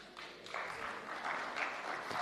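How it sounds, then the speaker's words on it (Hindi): An audience claps softly and steadily for a couple of seconds, distant and low in level, with no talking over it. "ये तो ऐसे ताली बजा रहे हैं जैसे रियल मूवी देख रहा है"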